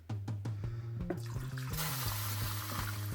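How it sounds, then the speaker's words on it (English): Water poured into a pot of toasted quinoa, a steady splashing pour that grows fuller and brighter as it goes on, heard up close with no talking. "we're going to go ahead and add the water."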